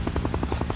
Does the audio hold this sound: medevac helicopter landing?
yes